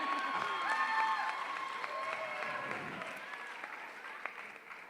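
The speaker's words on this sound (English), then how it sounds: "I don't know if we were clapping for Billy or the gator." An outdoor crowd at a tribal fair alligator show applauding, a sustained burst of clapping that fades gradually, with faint voices and whistle-like tones mixed in.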